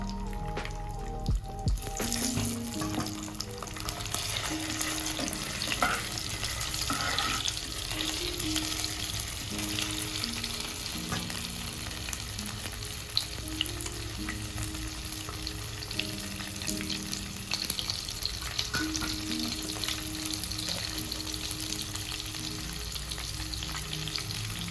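Potatoes frying in hot oil with two bay leaves, a steady close sizzle running throughout with occasional stirring clinks, for a Bengali chitol fish curry after the fish has been lifted out.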